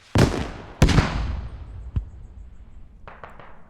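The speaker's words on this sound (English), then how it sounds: "Mortars coming down from somewhere" Mortar rounds landing in the Squad military game, two loud close blasts in quick succession followed by a fainter thud and a few distant cracks, with each boom rolling off into a lingering echo.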